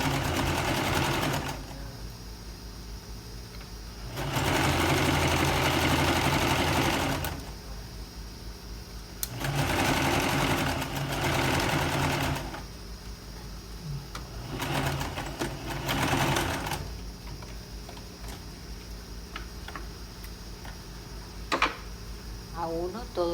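A sewing machine stitches a shirt in several bursts of fast, even whirring, close by, separated by quieter stretches where someone talks.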